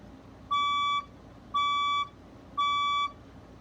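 Building fire alarm sounds during a fire alarm test: three loud, identical electronic beeps, each about half a second long, evenly spaced about a second apart over a steady background hum.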